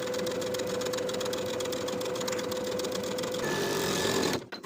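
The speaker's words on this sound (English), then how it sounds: "Then we're going to edge stitch close to the inner upper fold all the way around" A sewing machine edge stitches a blouse hem, a fast steady mechanical whirr with rapid needle ticking for about four seconds before stopping abruptly.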